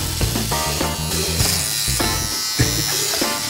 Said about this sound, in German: wenn man den Bart abnehmen wollen würde, will man dieses Gerät benutzen.